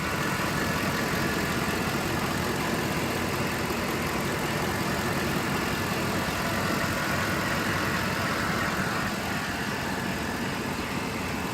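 A 2008 Ford F-150 XLT pickup with the 5.4-liter V8 Triton engine idles steadily, a constant, even rumble heard up close with no speech and no change in pitch or revving.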